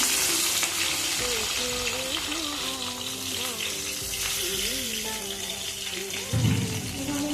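Small fish pieces fry in hot oil in a pan, giving a continuous sizzle with occasional stirring and bubbling that lasts throughout, partly under a speaking voice.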